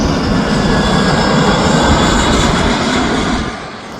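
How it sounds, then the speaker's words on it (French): An airplane descending to land roars loudly and steadily overhead as a broad engine rush with a faint whine, fading slightly at the end, with no voices. "Avec les descentes des avions ici, c'est bien."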